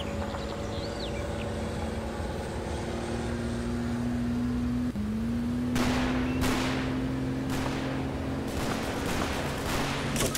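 Gunfire crackles in the World War II strategy game Combat Mission Fortress Italy, with sharp bursts and volleys breaking out in the second half over a steady engine hum and background battle noise.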